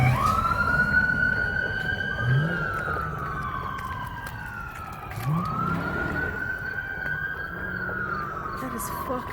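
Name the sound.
police sirens in the distance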